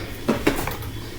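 Dishes being hand-washed in a living room, with two quick clinks of crockery and cutlery knocking together close by over a steady background of running water or room noise.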